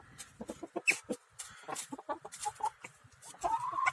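Chickens clucking in quick, uneven bursts, several birds close by eating leaves near a small coop, with a steady rustle of farmyard noise underneath.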